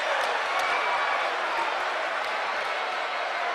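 Crowd roaring at a 2006 high school basketball game between Oak Hill and Montrose Christian after a dunk, a broad sustained cheer filling the gym, loud and continuous.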